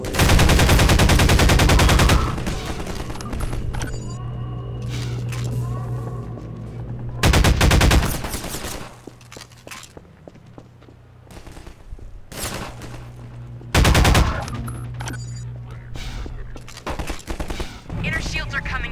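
Machine-gun and rifle fire from the Half-Life 2 video game comes in loud sustained bursts, with heavy volleys near the start, the middle and later on, and quieter shots and game effects in between.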